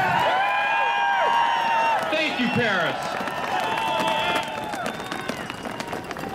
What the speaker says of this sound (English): Doesn't everybody deserve to give a round of applause to the people that put this together today?